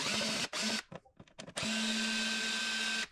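Cordless power screwdriver whirring as it backs out long Phillips screws while taking apart a bus water pump assembly, in loud sustained bursts with short pauses between them, steady motor hum close by.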